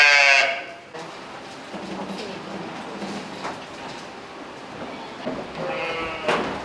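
Sheep on a Piedmont cheese farm: one loud, near bleat at the start, then quieter shuffling and a second bleat near the end.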